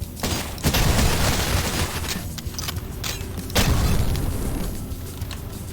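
Shotgun blasts in the retro shooter Cultic: loud, booming shots at irregular intervals, with sharp attacks over a noisy backdrop of game combat.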